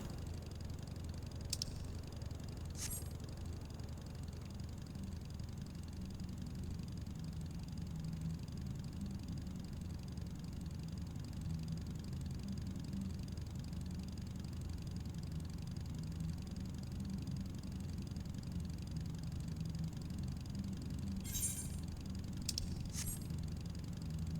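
A quiet, steady motorbike engine in the video game Final Fantasy XIV: Dawntrail drones at a low pitch throughout, with a few faint clicks near the start and end.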